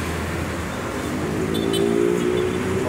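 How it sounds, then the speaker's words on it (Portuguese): City traffic on Avenida Autonomista in Osasco, São Paulo, a steady close roar of passing cars with engine hum and tyre noise building slightly toward the end. "Olha a frota de carro."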